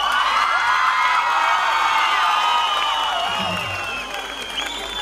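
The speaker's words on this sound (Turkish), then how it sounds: "Onu şöyle bir çılgınca alkışlayalım." A crowd at an evening concert applauds and cheers wildly for a singer, a continuous roar of clapping, whistles and whoops that holds loud before easing slightly toward the end.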